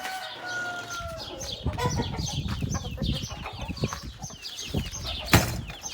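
Many turkeys call and gobble at once in a busy chorus inside a coop, with a dense overlapping rhythm of calls filling the whole stretch.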